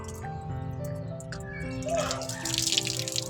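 Drinking water runs from an outdoor tap beside a trail near Chobhar, Nepal, a steady splashing flow with a few drips, heard close by against faint outdoor background.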